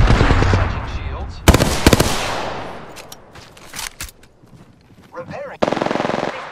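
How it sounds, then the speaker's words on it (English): Rapid automatic gunfire in a shooter video game, loud bursts of machine-gun fire followed by scattered single shots and fainter combat effects, then a final dense burst near the end. "I am taking fire, friend."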